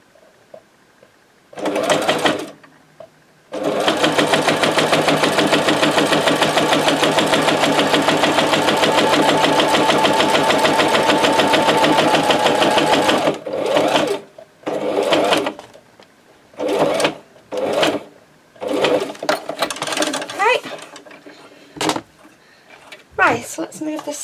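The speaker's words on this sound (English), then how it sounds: "So let's move this sewing machine out the way" Sewing machine stitching through paper pages of a ring-bound junk journal, a long steady whirring run of about ten seconds followed by several short bursts, close and loud.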